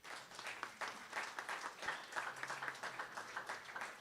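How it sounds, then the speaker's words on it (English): Audience applause at a ribbon cutting ceremony for a care home, a steady wash of many hands clapping that holds across the whole stretch with no voices over it. "So give yourselves a big round of applause."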